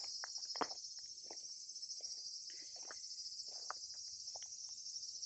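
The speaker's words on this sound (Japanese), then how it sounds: "そしてセミの声も聞こえるかな。" Cicadas keep up a steady, bright, high drone outdoors beside a shrine in Iyo on Shikoku, Japan. Scattered small clicks, taps and footsteps sound nearby underneath it.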